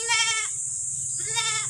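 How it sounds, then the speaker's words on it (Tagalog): Goats on a rural Philippine farm give two loud, close, wavering bleats separated by a short pause. "Yung mga iba nating kambing."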